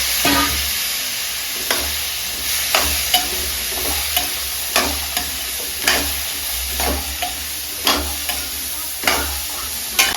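A spoon scrapes and stirs boiled chickpeas in a hot frying pan, roughly every second, over a soft steady sizzle.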